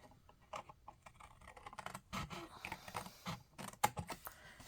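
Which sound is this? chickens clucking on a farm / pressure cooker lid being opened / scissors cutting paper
scissors cutting paper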